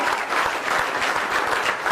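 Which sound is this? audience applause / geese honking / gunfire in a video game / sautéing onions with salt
audience applause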